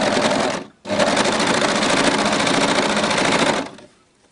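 A sewing machine stitches elastic onto a pair of leggings in a fast, even mechanical whir, close and loud, pausing briefly before running on and then stopping.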